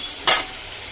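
Dill leaves (soi kura) tossed into a hot frying pan for liver curry give a sudden short sizzling burst that quickly fades back to a quiet background hiss.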